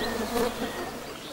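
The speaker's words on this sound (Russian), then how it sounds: "Путешественники вспоминают потом, что комары в Сибири величиной с кулак." A close, continuous high-pitched whine of mosquitoes swarming in Western Siberia, a thin insect drone with a faint steady hum beneath it and no talking.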